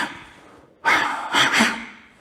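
Loud karate breathing demonstration: after a quiet lead-in, one sharp snatched breath is followed by two more quick ones, close and forceful, with no talking.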